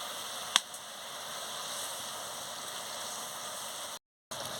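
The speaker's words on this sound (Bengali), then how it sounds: "মাছটা দিয়ে ভালো করে ফুটিয়ে নিচ্ছি।" Pabda fish curry bubbling in a pot, a faint, steady hiss of gentle boiling with one small tick near the start and a brief gap of silence near the end.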